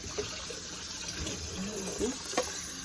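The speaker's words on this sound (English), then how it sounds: "Adding some water to my beef." Water poured over beef in a pot for Nigerian red stew, a soft continuous splashing trickle, fairly faint and close.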